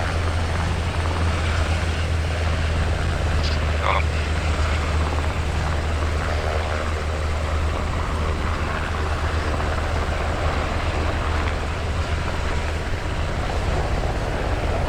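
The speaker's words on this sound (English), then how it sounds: "everyone get in the helicopter" Helicopter rotor and turbine roar during a team boarding on a deck, a loud steady low drone that fills the whole span with little change and no talk above it.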